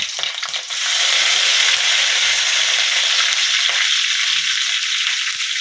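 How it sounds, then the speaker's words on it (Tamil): Green chillies and curry leaves frying in hot oil for Kerala-style mackerel fish curry, a loud, dense, continuous crackling sizzle that swells after a brief start and holds steady, close to the pan. "மூணு மூணு பச்சை மிளகா போடணும் என்கிட்ட ஒரு பச்சை மிளகு இருக்கிறனால பச்சை மிளகா போடுறேன் கருவேப்பில"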